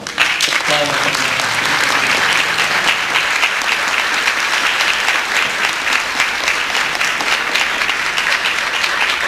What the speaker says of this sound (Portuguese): Novamente, palmas.